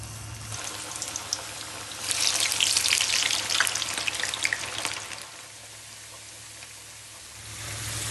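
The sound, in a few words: deep frying sliced potatoes and onions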